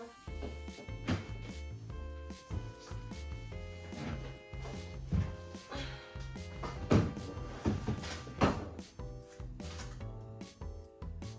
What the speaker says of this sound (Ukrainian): Я не знаю, чи за цими штуками влізе шухляда.